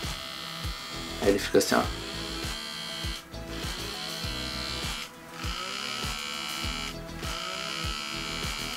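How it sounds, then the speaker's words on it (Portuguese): An InFace blackhead vacuum device runs with a steady electric buzz that shifts briefly as its mode is changed, droning close under someone talking in Portuguese. "esse é o, né, o InFace e tal, aspirador de cravos"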